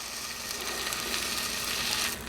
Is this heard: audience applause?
no